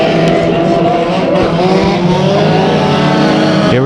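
Mini stock race cars roar at full throttle in a heat race at Bakersfield Speedway, a loud, dense wall of engine noise with rising and falling revs from many cars at once.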